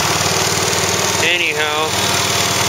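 A Deutz-Allis 6-6-10 tractor runs loud and close after a cold start, its diesel engine throbbing in a steady, rapid rhythm, with a short vocal sound briefly over it midway.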